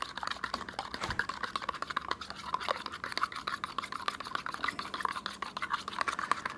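Powdered discharge activator is stirred into a mix, giving rapid, scratchy scraping and clicking strokes. The stirring is close, steady and continuous, with no talking.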